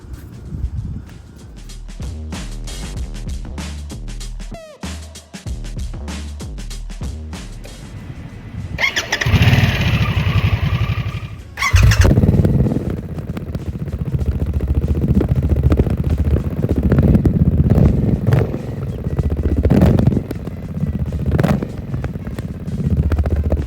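A 2024 Harley-Davidson Nightster Special fitted with an S&S Grand National slip-on muffler, clicking over then firing up into a loud, close, rumbling idle with a few blips of throttle, alone without talk.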